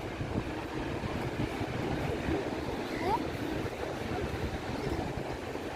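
Sea waves at Manly Beach in Sydney give a steady broad rush of surf mixed with wind buffeting the microphone, continuous and fairly close, with faint voices in the background.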